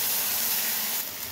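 Ginger paste with ground turmeric, coriander and cumin frying in a pan, a steady close hiss and sizzle that eases slightly near the end.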